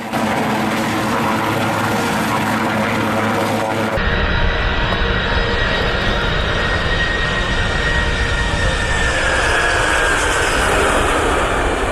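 A plane passes overhead at a Cleveland airport: a loud, steady engine roar that swells as a broadband rush, with a high whine sliding slowly downward as the aircraft moves by, with no talk.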